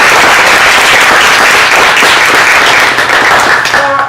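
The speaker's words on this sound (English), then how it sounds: "can I give them a round of applause?" An audience gives a round of applause for students before a theater performance at a Big Read closing event, with loud, dense clapping from a crowd that holds steady and then fades slightly as a voice starts at the end.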